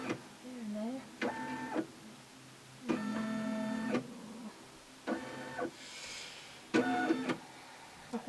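A Brother M320e embroidery machine traces its stitch area, several separate bursts of whirring, tonal motor hum lasting about a second each with short pauses between, close and clear, while a person speaks briefly.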